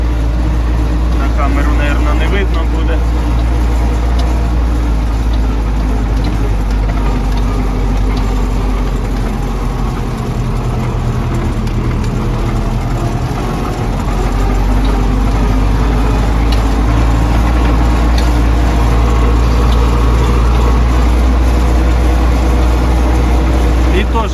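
A tractor engine chugs steadily at a low rumble throughout, loud and close, with people talking over it, in a winter wheat field on frozen ground.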